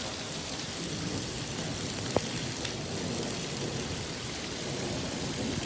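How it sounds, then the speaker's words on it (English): Heavy rain pours steadily in a dense, even hiss during an Arizona lightning storm, with one sharp crack partway through. "because it's raining so hard."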